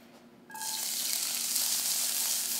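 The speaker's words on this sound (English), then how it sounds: "See the sizzle? That's what I want to hear." Bright green spinach hits a hot pan and bursts into a loud, hissing sizzle that starts abruptly and keeps crackling steadily, heard close up with no talking.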